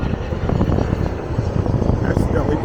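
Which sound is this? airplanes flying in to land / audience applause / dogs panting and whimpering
airplanes flying in to land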